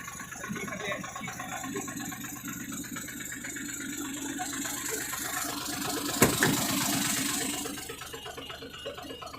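A motorcycle engine idles steadily with a low rumble and faint rattle, a brief sharp knock near the end, then the sound continues without clear shutdown.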